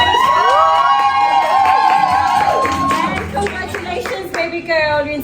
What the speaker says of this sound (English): Another big warm round of applause.